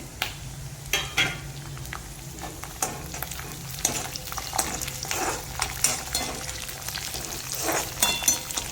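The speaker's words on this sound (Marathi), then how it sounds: "ते उडतंय ना, तेल शेंगदाणे उडतंय." Peanuts splutter in hot oil with green chillies and curry leaves, a constant close sizzle broken by sharp, irregular pops and crackles across the whole stretch.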